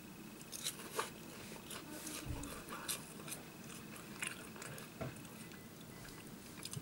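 Plain ice cream wafers are bitten and chewed close up, with soft, crisp crunches at irregular intervals over a faint background. A voice speaks briefly.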